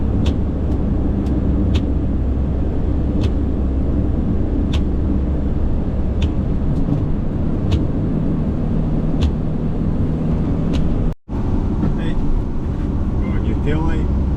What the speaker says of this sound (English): So we'll head along the motorway now and go and get that done.